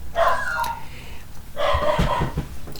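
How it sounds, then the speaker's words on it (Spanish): A small female dog barks indoors in two separated bursts of several sharp yaps, moderately close and loud, over a steady low background hum. "Un clásico, cada vez que estoy grabando, la perrita que ladra."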